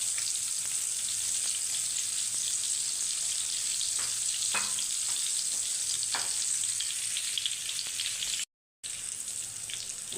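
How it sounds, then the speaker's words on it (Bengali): Eggplant slices frying in a pan with a bright, continuous sizzle up close, a few soft clinks of utensils, and a brief dropout near the end, no voices. "এই যে হলো আমার বেগুন ভাজা"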